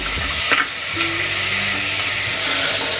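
Masala frying in oil in a pan for keema sambar, a steady loud sizzle with scraping stirring strokes throughout and no talking.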